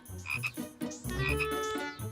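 Frogs croak in a few short, throaty bursts, close and clear, with no voices over them.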